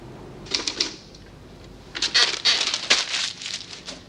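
Typewriter keys clatter in two quick bursts, a short run of sharp taps followed by a pause and then a longer, denser stretch of rapid clacking close by in a quiet office.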